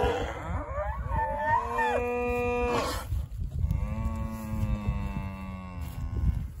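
Several cows moo in long, drawn-out calls, one after another, close by with some background noise, as they head out to grass.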